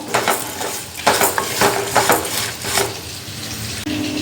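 Black pepper and curry leaves dry-roasting in a pan, with a spoon or spatula scraping and stirring against the metal in close, uneven strokes over a light crackle.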